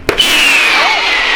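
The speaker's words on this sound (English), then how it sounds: "once in a while, you'll hear a gunshot." A single sharp gunshot-like crack rings out near the start, followed by a long fading tail with whistling tones, heard alone without voices.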